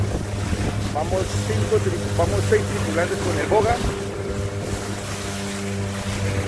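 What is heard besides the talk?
Parsun 15 hp long-shaft outboard motor moving a large fishing boat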